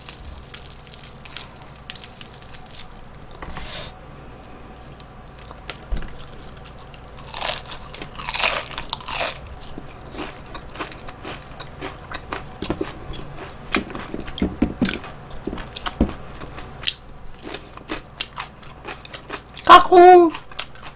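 Crunchy bites and chewing of Korean neighborhood-style fried chicken, half plain fried and half sauced, as a late-night snack, with scattered close crackly crunches, mouth sounds and brief pauses, louder near the end.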